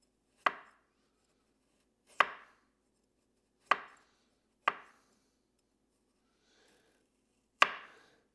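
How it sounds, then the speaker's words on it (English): A kitchen knife cuts thin slices on a board in five sharp, separate chops with long gaps between them, close and clear with no talk. "Let's do a couple more cuts, trying to go thin."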